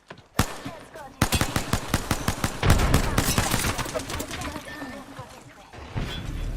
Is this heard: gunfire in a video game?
yes